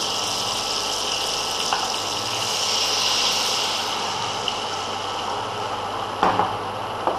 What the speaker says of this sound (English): After that, I will add milk in it.